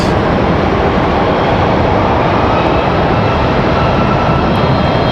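Airliner jet engines roaring steadily at Raleigh Durham International Airport, a loud, continuous broadband rumble and hiss that holds evenly throughout with no pauses or talk.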